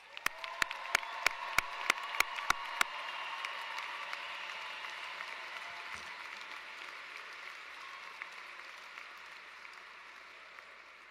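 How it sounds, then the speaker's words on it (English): A crowd at a Nichols College graduation ceremony for the class of 2024 applauds in a broad, sustained wash that slowly fades. A run of sharp, evenly spaced clicks cuts through it at the very start. "One more time, a round of applause."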